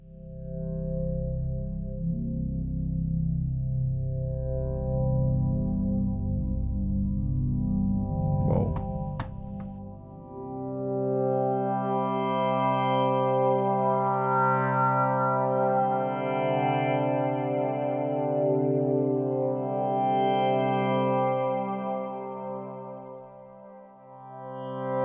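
Ambient synth patch built in Native Instruments Massive from two combined layers, a sustained droning pad with echo and reverb that swells, briefly dips, then returns fuller and brighter, with no talk.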